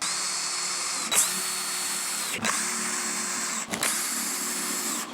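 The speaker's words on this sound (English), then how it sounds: "apply some pocket hole screws" A power drill drives pocket hole screws into a woodworking project on a bench. Its loud, close, high whine runs in three long stretches, each ending in a brief stop or change in pitch.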